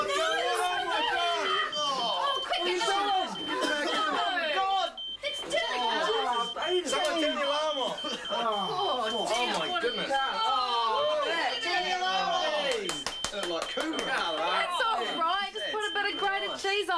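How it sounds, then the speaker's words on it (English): A household smoke alarm goes off with a steady high beeping that runs through the whole stretch, partly buried under continuous talking voices. "But even the best plans can be interrupted by a smoke alarm."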